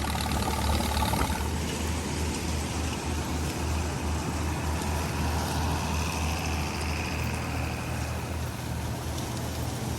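An old farm tractor engine idles steadily nearby, a continuous low rumble with a faint knocking pulse that holds even for the whole stretch, with no voices.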